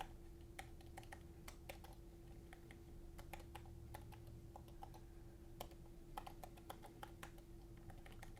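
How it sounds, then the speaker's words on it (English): Typing on a Mokibo trackpad keyboard for iPad Pro, a quick, irregular run of soft key clicks at close range over a faint steady hum, with no one talking. "I'm trying to type from behind a camera at this point, but it does work"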